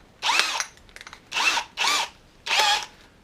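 Power drill spun as a makeshift lathe to thin a Mazda RX8 six-speed gear linkage rod, four whirring bursts of about half a second each separated by brief pauses and faint clicks, close and alone.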